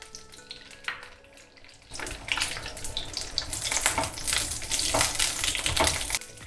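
Diced onions hit hot oil in a kadai and begin shallow frying over a high flame, a close, bright sizzle that starts abruptly and stays dense and crackling with occasional stirring.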